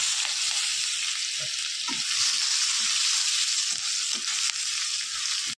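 Onions frying in hot oil in a wok with dried chillies and five-spice seeds make a loud, steady, close sizzle, with soft stirring knocks scattered throughout.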